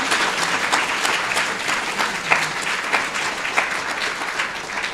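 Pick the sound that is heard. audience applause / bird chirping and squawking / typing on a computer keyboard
audience applause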